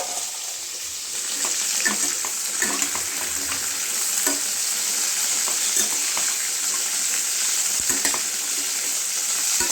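Drumstick stalks and vegetables sauté in a pan for bitter gourd and pea dal, with a steady close sizzle and frying hiss throughout and scattered stirring scrapes and clicks.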